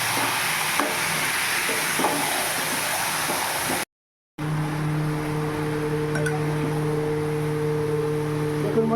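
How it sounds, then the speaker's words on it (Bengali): Chicken being stirred and sautéed with ground spice paste in a pan, a continuous close hiss of sizzling with faint scraping, broken by a brief cut of silence before steady low hum returns alongside the frying. "এবার শুধু কষতেই থাকবো মাংসটাকে।"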